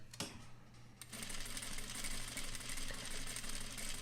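A sewing machine stitches a double-ended fisheye dart in fabric, its needle running in a fast, even mechanical chatter after a short pause, close and fairly quiet.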